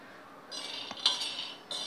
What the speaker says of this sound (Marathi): सारखं परतवत राहायचं आहे